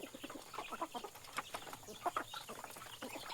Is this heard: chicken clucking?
yes